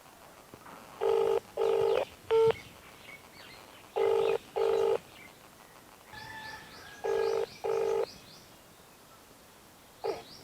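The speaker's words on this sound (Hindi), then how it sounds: "यही फ़ोन करके बात करने की कोशिश कर रही हैं" Phone call dialed and left ringing unanswered: a burst of keypad tones, then repeated paired ringback tones with short gaps, clear and fairly loud against a quiet background, with no talk.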